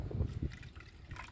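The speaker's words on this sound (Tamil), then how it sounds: "அதில் கொஞ்சம் போல் தண்ணி நான் சேர்த்துக்கிறேன்." Water is poured into a bowl while preparing a homemade copper and brass cleaning liquid, a brief close splash and trickle with low thumps, heard alone and fairly quiet.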